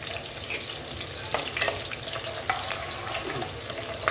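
Garlic and green chillies crackle and spit in hot oil in a pan, a steady bed of sizzling with sharp pops scattered throughout, close and continuous with no talking.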